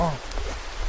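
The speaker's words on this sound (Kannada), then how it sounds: "ಮಳೆ ಮಳೆ ಫಾಗ್ ಅಲ್ಲ ಅದು" Steady hiss of rain falling in the forest at Madalingana Kanive, with a brief voice at the very start.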